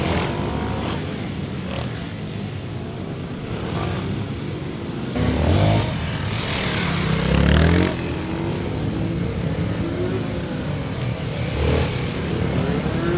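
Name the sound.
motorcycle riding a time attack course on bias tires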